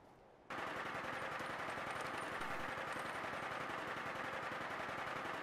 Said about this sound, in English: if you like automatic weapons, this is from Nuka World. This is the handmade rifle